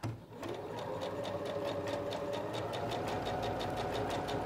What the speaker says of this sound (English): I'm going to take this first pin out, and I'm going to start sewing